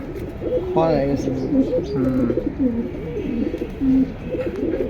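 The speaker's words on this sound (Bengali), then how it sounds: "হেভি হেভি কবুতর ভাই মাশাল্লাহ অনেক সুন্দর" Pigeons coo repeatedly at close range, overlapping rolling calls among a seller's flock of large birds, with faint background chatter and movement.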